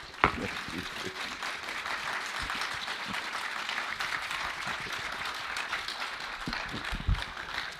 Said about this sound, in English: But please join me in giving an applause of welcome and thank you.